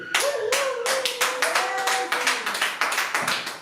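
Church congregation clapping in acclamation during an evangelical service, a steady run of close, loud handclaps with a sung or held voice line underneath.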